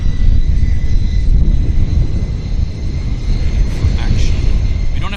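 A WestJet Boeing 737-800 on Calgary flight 104 at Vancouver YVR airport gives off a loud, steady low jet rumble that fills the whole stretch without a break.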